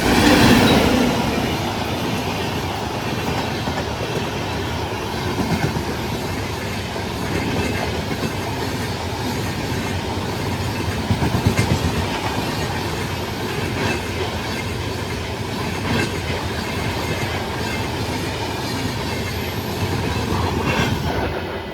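Andaman Express rushing through Kottapally station at high speed, a loud continuous rumble of wheels and carriages with steady clatter and brief squeals, sustained throughout without any voices.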